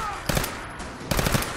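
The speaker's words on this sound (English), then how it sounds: "Who's shooting?" Gunfire in Fallout 4, two short bursts of rapid shots a moment apart, fairly close and loud against a quiet game background.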